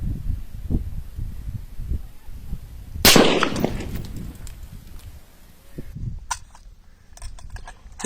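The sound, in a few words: M4 rifle firing 5.56 NATO rounds at 150 m target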